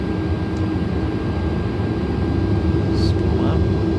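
Jet airliner engines on a Northwest Airlines A330 spool up for takeoff in Microsoft Flight Simulator, a loud, steady, dense roar that holds throughout with faint tonal chirps on top.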